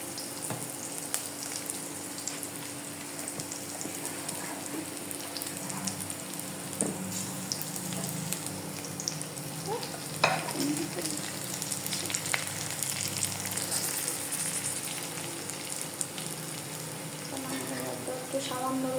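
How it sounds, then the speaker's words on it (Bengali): Sliced onions and three or four green chilies frying in hot oil for Bangladeshi aloo bhorta, a steady close sizzle with light stirring and crackle running the whole time. "পেঁয়াজগুলো একটু লাল লাল করে ভেজে নিতে হবে। সাথে দিয়ে দিচ্ছি 3-4টা কাঁচামরিচ।"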